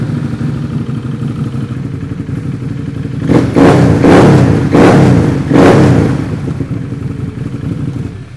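An ATV fitted with an HMF aftermarket exhaust system idles, then revs in three or four sharp throttle blips with a deep, throaty bark before settling back to idle, close and loud.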